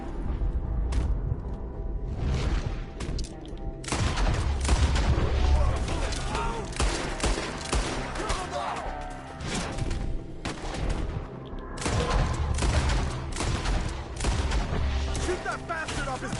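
Repeated gunfire from a Red Dead Redemption 2 shootout, with bursts of shots in clusters over a dense game mix of music and effects, while voices shout over the fighting.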